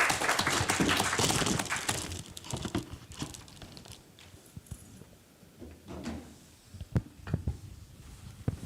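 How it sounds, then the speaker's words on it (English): Applause at a Clearlake city council meeting for a council member, a dense burst of clapping that thins out into scattered claps and rustling. "Round of applause for Councilmember Purdock."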